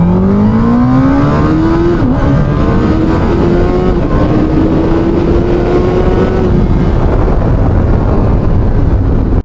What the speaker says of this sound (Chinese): 這邊我一把油灌進去，再來感受一下